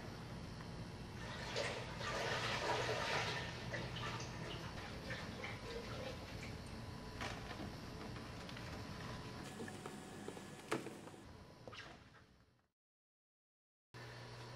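A gallon of vegetable oil pours into the main tank of a BioPro 190 biodiesel processor as a steady, rushing flow that fades out near the end.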